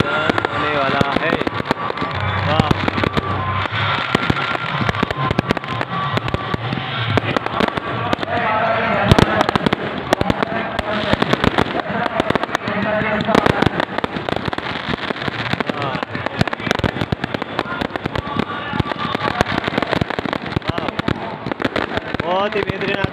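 Fireworks crackle and burst continuously at a Dussehra Ravan Dahan celebration, a dense, loud barrage of pops and bangs with an excited voice talking over it throughout.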